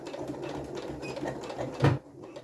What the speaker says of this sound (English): I'm just going to start by sewing across the strap, needle down.